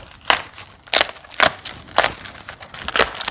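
Wrapping on a fiberglass motorcycle saddlebag is peeled open in a series of crinkly, crackling bursts about every half second, close and loud, with no talking.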